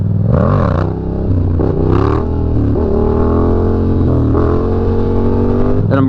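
A motorcycle engine runs steadily throughout, with revs rising and falling as the rider practices a wheelie, loud and close with a continuous throbbing drone.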